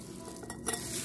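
Brief, soft, wet stirring of fish being mixed with fish sauce and minced garlic, with a few light scrapes over about a second.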